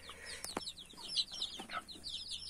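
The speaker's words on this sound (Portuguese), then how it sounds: "os pintinhos meus aqui" Week-old newly hatched chicks peep in high, rapid chirps, several overlapping calls close by and soft, with a faint bump or two.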